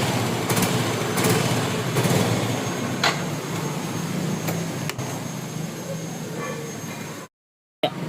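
A Yamaha Fino 125 FI scooter engine revs while the scooter stays in place, running rough and buzzing steadily for several seconds, with a brief cut near the end.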